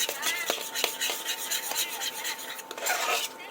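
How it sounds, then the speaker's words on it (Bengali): A spice paste of ginger, cumin, coriander and yogurt is stirred in a pan, with close metallic scraping and clinks over a soft steady hiss. "খুব সুন্দরভাবে মশলাটা কষে দিচ্ছে"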